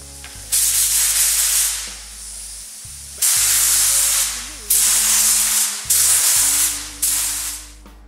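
Base coat sprayed onto a Peavey Predator guitar body: five loud hissing bursts of a few seconds each, separated by short pauses, over a low steady hum.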